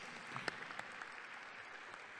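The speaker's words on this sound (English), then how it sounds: "So a big round of applause to all the academic institutions." Soft, steady applause from a conference crowd, a continuous patter of clapping with a few sharper claps standing out, fairly distant and even throughout.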